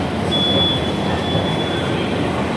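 A commuter train riding toward Howrah station, a loud, dense rumble of wheels on rails with a thin, sustained high squeal running through it, heard from inside the carriage.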